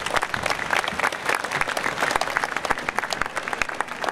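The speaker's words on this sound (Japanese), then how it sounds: "どうぞ大きな拍手でお迎えください。" An indoor audience at a stage ceremony during a prefectural festival at a Makuhari Messe exhibition hall claps steadily, a dense, moderately loud burst of applause with no talk over it.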